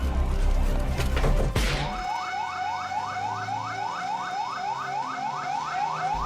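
Jakarta fire brigade siren wailing in a rapid, repeating up-sweep pattern, steady and moderately distant after a brief burst of louder noise at the start, with no talk.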